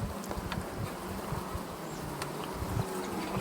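Native stingless bees buzz steadily around a meliponary hive box in a warm regional climate, a dense close insect drone with scattered individual fly-bys passing near, no voices.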